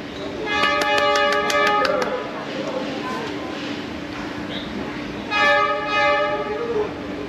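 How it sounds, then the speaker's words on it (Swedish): A train horn blasts twice as the train approaches somewhere in Vietnam, a longer call early on and a shorter one later, loud and fairly close over steady rail and street noise. "Nu kommer tåget. Ha utkik här nu. Tåget kommer."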